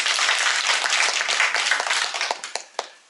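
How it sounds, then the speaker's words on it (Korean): An audience on a visit to a historic birthplace bursts into close, lively applause that holds steady and then thins into a few scattered last claps. "박수 한번 부탁드립니다"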